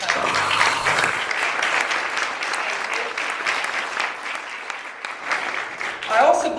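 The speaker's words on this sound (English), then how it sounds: "let me give you a round of applause for taking care of me all the time" Audience applause for board members and staff at a Maryland Clean Energy Center gathering, a steady wash of clapping from a large room that carries on for several seconds, swelling slightly near the end.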